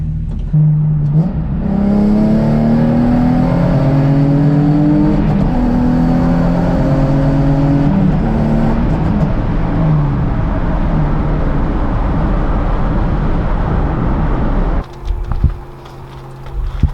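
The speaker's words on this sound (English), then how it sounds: "That pull was a little bit crazy." A Nissan 350Z accelerating hard, its engine note climbing loud and close through successive rising sweeps before cutting off near the end.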